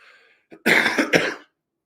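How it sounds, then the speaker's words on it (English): One harsh, close cough bursts out in two quick jolts after a brief throat sound, then silence follows. "my cough. It still isn't gone yet, y'all."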